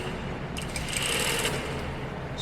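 A sewing machine stitches along the edges of a stretched elastic waistband, giving a steady close whirring hum with a brighter, louder stretch in the middle, no voice heard.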